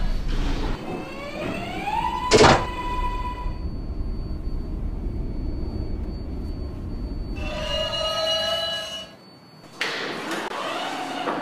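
A simulated R142A subway train on the 6 line hums steadily while running, with rising electronic motor tones at start and near the end and a brief sharp chime or clank early on.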